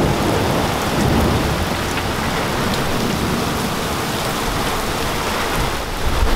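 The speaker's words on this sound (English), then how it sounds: "Man, it is raining hard." Heavy rain pours steadily in a dense, continuous roar, with low rumbles of thunder rolling underneath throughout.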